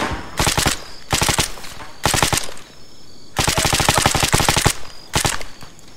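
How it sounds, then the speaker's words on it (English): Automatic gunfire from the Arma 3 video game, loud and close: repeated rapid bursts of rattling shots separated by brief pauses, with one longer sustained burst near the end. "That's just blind fire right now"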